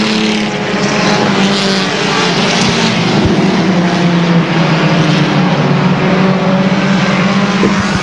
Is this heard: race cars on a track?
yes